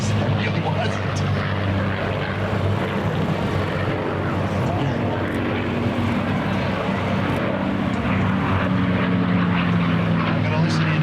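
Loud, steady F-16 jet engine roar at an air show fills the whole stretch, a constant droning rumble with no break, close and powerful.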